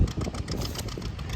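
Farmall M tractor engine chugging steadily at working load while pulling a three-bottom plow in third gear at a plow day, close and continuous, no talking.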